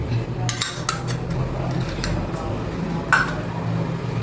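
Mysore bonda batter being mixed in a bowl with green chillies and ginger, a utensil clinking and scraping against the dish in irregular strokes, close, with a faint background hum.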